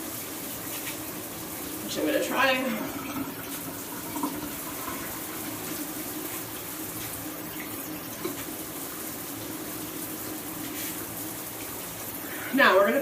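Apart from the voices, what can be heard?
water running while washing hair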